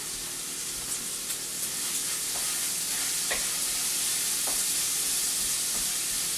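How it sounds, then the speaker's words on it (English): Bacon for keto bacon cheddar cheese rolls fries in a pan while being stirred, giving a steady, close, bright sizzle with faint scrapes and small spits running throughout, with no voices. "And stir that bacon really quick."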